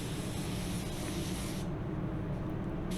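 A spray gun lays down a second coverage coat of automotive paint, a steady, loud, continuous hiss of atomized spray that runs unbroken with no talking.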